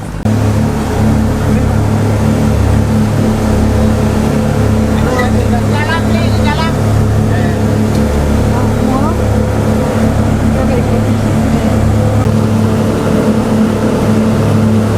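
Motorboat engine idling steadily and loudly at a Bali pier during boarding, a continuous low droning hum throughout, with people talking faintly over it.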